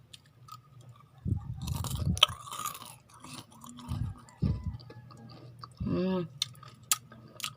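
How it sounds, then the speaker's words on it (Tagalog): Crunchy fried garlic is chewed close to the microphone in a few separate loud bursts of crunching bites, with short quiet gaps between them. "ipaparinig ko sa inyo kung gaano kalutong yung ginawa or yung niluto natin na peanuts and yung kanyang bawang"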